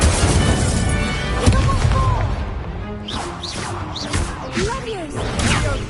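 An Incendio fire spell is cast in a video game, bursting out as loud crashing booms and whooshes, with shouted voices and game effects layered over the blasts.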